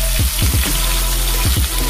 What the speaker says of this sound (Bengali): তো মিডিয়াম ফ্লেমে এটা 1 মিনিট ভাজা হলে আমি উল্টে দেব